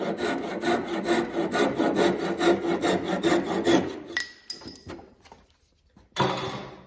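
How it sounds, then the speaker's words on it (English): A hand saw cuts through a wooden dowel during a dresser repair, with fast, even back-and-forth strokes close by. The sawing stops, then a few light knocks and a brief clatter follow. "And then I'll just cut off this dowel."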